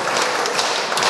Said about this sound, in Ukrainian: Ще раз даремо оплески